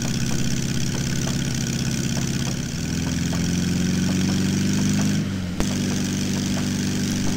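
Brill railbus engine in Trainz 2019, a loud steady mechanical drone that steps down in pitch as it revs down, then cuts with a sharp click near the end before settling into a lower idle.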